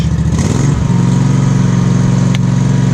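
A riding lawn mower engine starts up and settles into a loud, steady running drone close by, with no talking.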